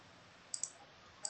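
A few light computer mouse clicks during work in SketchUp LayOut, two quick clicks close together and one more a moment later, crisp and close against a quiet room.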